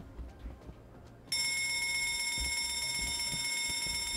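A steady electronic fire alarm in a video game rings with several high sustained tones, starting abruptly after a moment of low rumble and continuing without pause.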